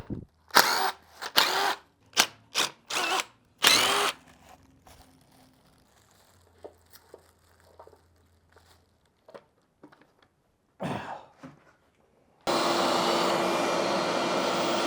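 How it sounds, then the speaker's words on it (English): A power drill fires in several short, sharp bursts with quiet pauses and scattered clicks, then runs loudly and continuously at the end, while working on a truck during a Ford 460 engine install. "Let's drill this."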